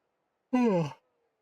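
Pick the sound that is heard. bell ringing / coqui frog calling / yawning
yawning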